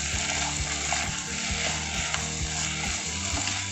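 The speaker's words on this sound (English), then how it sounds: "Fry for at least 1 minute of time. It's 1 minute I'm frying." Chicken coated in chili and turmeric powder fries in a pan with a steady, close sizzle. Rhythmic clicking and scraping from stirring runs through it, and no one talks.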